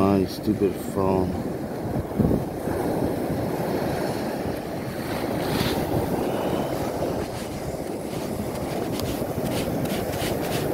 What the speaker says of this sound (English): The waves are pretty big today.